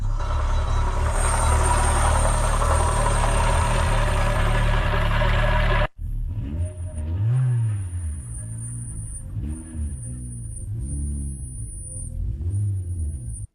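A 1993 Citroën BX GTI with a 1.9-litre 125 hp engine and hydropneumatic suspension runs smoothly at idle with an audible bearing noise. A loud, dense rumble gives way partway through to a quieter idle with a faint whine and soft swelling tones.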